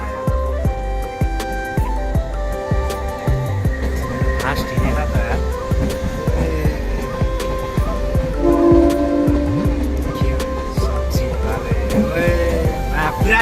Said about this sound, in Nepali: अर्को ट्रेन गयो अर्को ट्रेन आयो